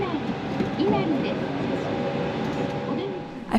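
Steady rumble and hum of a moving train in Kyoto, heard from inside a carriage with a continuous roll and faint squealing tones, no one talking.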